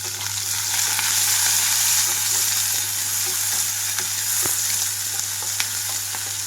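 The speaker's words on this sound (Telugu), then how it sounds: "కట్ చేసిన ఉల్లిపాయలు అలాగే పచ్చిమిరపకాయలు వేసుకున్నాను" Continuous bright sizzle of onions and green chilies frying in hot oil, with a few small pops and a low steady hum underneath.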